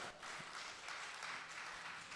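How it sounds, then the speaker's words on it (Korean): Church congregation applauding to welcome a returning member, a dense steady patter of many hands clapping throughout at moderate loudness with no talk over it. "우리 레베카 신고님 한국에 계시다가 다시 오셨는데 박수로 한번 환영하겠습니다"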